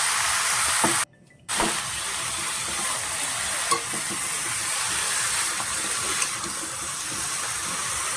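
Cut vegetables hitting hot oil in a pan with fish and potatoes, a loud steady sizzle and hiss with a brief dropout near the start and light stirring scrapes, close and continuous with no talking.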